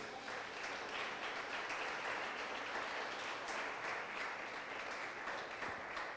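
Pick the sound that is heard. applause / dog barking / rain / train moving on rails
applause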